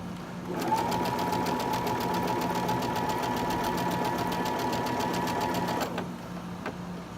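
A sewing machine runs steadily for about five seconds, chain stitching a Halloween mystery quilt project, with a fast regular needle rhythm, loud and close, then stops abruptly before a faint click.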